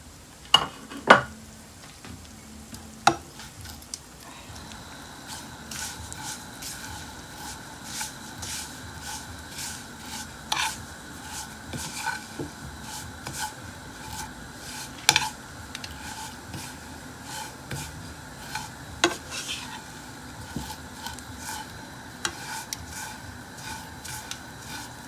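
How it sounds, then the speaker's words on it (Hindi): Vermicelli fries in ghee for sheer khurma and gets stirred, giving a low, steady sizzle with scattered scraping clicks of the spoon against the pan, heard close by and quiet. "अब इसी घी में अब सेवइयां हम ऐड करते हैं।"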